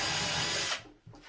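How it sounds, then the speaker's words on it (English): A power drill bores into a wooden cabinet near a shelf, running loud and steady for most of a second before cutting off, followed by a brief faint clatter. "I'm just going to drill in a bit."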